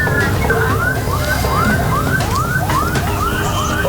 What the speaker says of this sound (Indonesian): Meski telah diperingatkan dengan sirine, pelaku tak juga memberikan jalan untuk ambulans